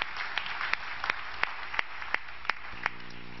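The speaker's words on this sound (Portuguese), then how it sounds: "Vamos aplaudir a palavra de Deus, a palavra da salvação." Congregation applause during a Catholic Mass, a soft continuous patter of many hands with sharper individual claps poking out at irregular intervals, steady and moderately distant, no speech over it.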